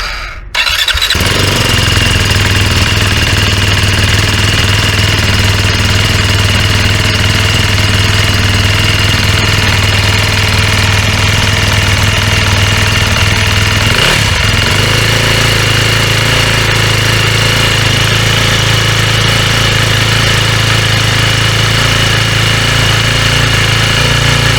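A 2025 Sherco 300 SEF motorcycle engine fires up with an abrupt start, then settles into a loud, steady idle that holds close and continuous, with a brief shift in tone midway.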